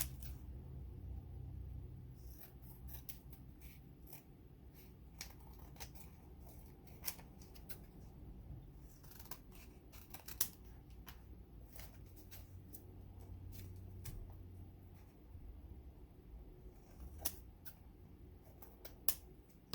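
Scissors trimming around upcycled calendar pages, a scattering of sharp, quiet snips and clicks at irregular intervals over a soft room background, with no speech.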